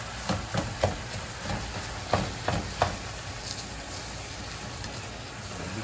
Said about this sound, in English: Let's cook this until it's good and brown